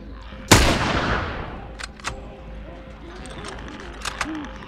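One loud, close rifle shot cracks out and rings into a long decaying tail, aimed at a clicker in The Last of Us, followed by faint clicks and scattered game noises.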